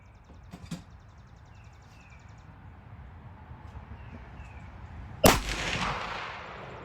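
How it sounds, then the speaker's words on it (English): A 25/20 BullBerry rifle fires a single loud, sharp shot at an outdoor range, aimed at a target 50 yards away, followed by a fading echo. Quiet ambience comes before the shot, with no speech. "I'm going to shoot at 50 yards, the right-hand target."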